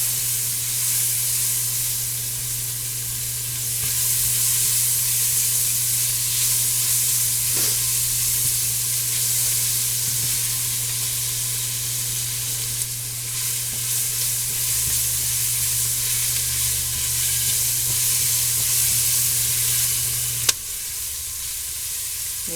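Chicken and dumplings made from canned chicken cook in a pot, giving a long, even hissing simmer with a steady low hum, a couple of faint stirring knocks and one sharp click near the end.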